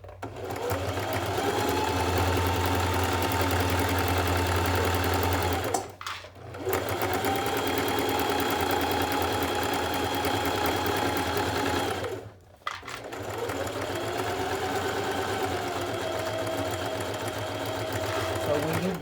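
A sewing machine stitches steadily along the edge of fabric guided by the presser foot, a continuous close motor hum with two brief pauses, while a person talks over it.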